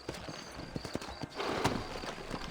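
Horse hooves in Red Dead Redemption clip-clop in a quick, close rhythm over faint background ambience, with a brief neigh-like sound partway through.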